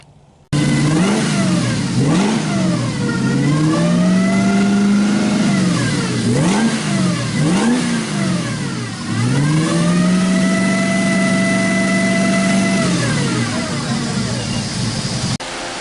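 A car engine revs hard through several quick blips, then holds a long, loud, steady high rev before settling, close and prominent with no voices.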